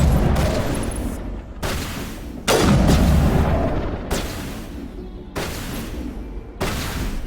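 The Mako vehicle's cannon in Mass Effect 1 fires five or six heavy, booming shots at steady intervals, each blast loud and close with a long rumbling decay that carries into the next.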